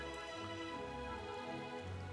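Steady rain falls in the video game Final Fantasy XIV at night, a soft even patter running under tonal background music throughout.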